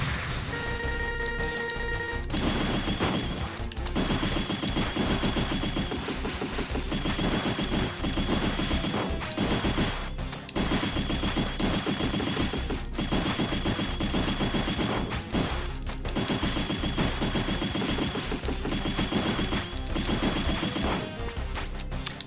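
Boss defeat explosion sequence in Mega Man X3: a dense, loud, continuous barrage of rapid repeating blasts and crashes with high beeping tones, unbroken for over twenty seconds.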